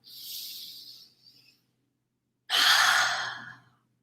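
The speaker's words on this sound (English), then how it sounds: "Anytime that you take a really deep breath, like," A person takes a deep breath: a soft inhale, a pause of silence, then a longer, fuller exhale like a sigh, close and clear with no talking.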